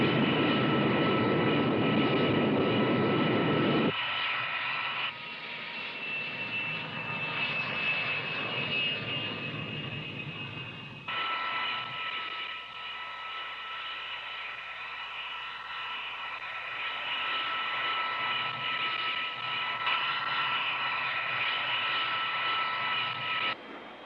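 An X-15 rocket plane in flight, as portrayed in a movie, gives a loud, continuous engine roar that holds steady for the whole stretch, with sustained tonal bands running through it and no talking.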